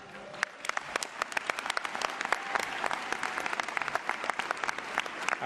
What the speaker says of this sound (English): Let's save the applause to the end.